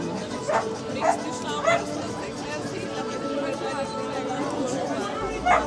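A few sharp dog barks, about one per half second, stand out over continuous crowd chatter and talking nearby in the Ljubljana city center.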